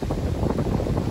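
Strong wind buffeting an outdoor airsoft practical shooting range, a steady broadband rush with low rumbling gusts filling the whole moment, loud and close with no voices.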